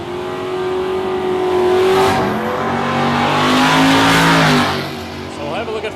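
Drag race cars at Warwick Dragway, one of them a big block Chevrolet, roar as they accelerate hard down the strip. Rising engine tones swell loud toward the middle and then fade.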